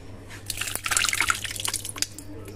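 Tomato sauce slides from a container into a dish of mozzarella and cheese, making a short run of wet splats and gloopy drips, loudest in the middle and alone without talk.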